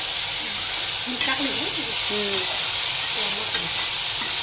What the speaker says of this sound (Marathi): गवारी अशी थोडीशी पहिली तेलामध्ये परतून घेतली ना लवकर शिजते